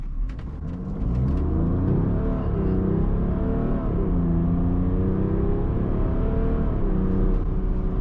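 A 2024 Range Rover Velar in dynamic mode accelerates hard to 100 km/h. Its engine swells into a loud, steady drone whose pitch climbs and drops through gear changes, with no talking.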